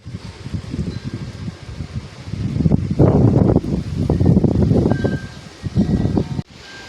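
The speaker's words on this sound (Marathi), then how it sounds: "वारा सुटलाय भरपूर" Strong wind gusting outdoors in a Konkan village during light rain, buffeting the microphone with a broad, rumbling roar that swells louder in the middle and drops off abruptly near the end.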